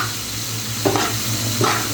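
Eggs cracked into a pan with ampalaya (bitter gourd) give off a steady close sizzle, with two brief louder bursts of frying as the eggs hit the hot oil.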